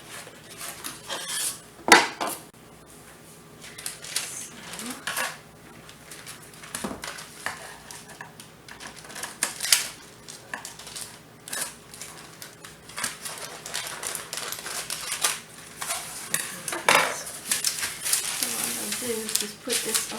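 Parchment paper is rustled and pressed into a pie crust for a homemade blueberry custard pie, with crinkling, rubbing and light clinks of kitchenware scattered through the stretch.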